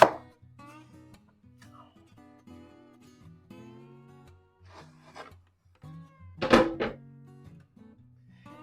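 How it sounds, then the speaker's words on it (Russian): Quiet scraping and rasping of a tool coring apples, with a few soft thunks and one louder crunch near the end. "Сейчас мы их очистим от сердцевины."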